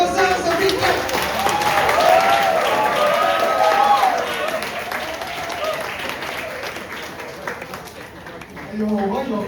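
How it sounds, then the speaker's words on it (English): An audience at a conference applauds, a dense wave of clapping mixed with some cheers that peaks early and then fades, with voices murmuring and someone speaking over the tail end. "Please give yourselves a big clap."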